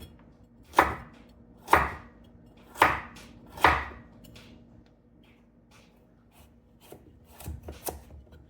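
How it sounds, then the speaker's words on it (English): Knife chopping carrots on a board, four evenly spaced crisp thunks followed by a few lighter, quicker cuts, close and clear with a faint kitchen hum beneath. "we're just chopping up the carrots."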